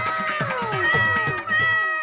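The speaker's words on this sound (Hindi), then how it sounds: "भैया वहाँ देखो, प्यारी सी बिल्ली जाल में।" Cat trapped in a net meowing, from a Hindi comedy skit: a long, loud, pleading meow with a wavering pitch over about two seconds, close and clear, with no talking.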